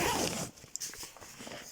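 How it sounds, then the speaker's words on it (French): A zipper is pulled open along a North Face Terra 65 backpack, starting with a loud, continuous rasp that fades after about half a second, followed by softer fabric rustles and clicks. "nous avons une fermeture éclair qui permet d'ouvrir le sac entièrement"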